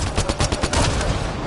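Rapid sci-fi gunfire from the video game Mass Effect Andromeda, a loud, dense burst of overlapping shots at close range.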